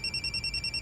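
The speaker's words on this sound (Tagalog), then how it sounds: "Karaan kay ringtone." An old cellphone plays a ringtone: a rapid trilling electronic warble that pulses about ten times a second, thin and steady at moderate loudness with no voices.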